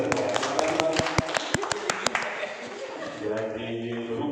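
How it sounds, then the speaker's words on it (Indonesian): A group claps together in a workshop session, a burst of sharp, close claps that thins out after about two seconds and gives way to murmuring voices and room noise. "Tepuk tangan buat kita semua."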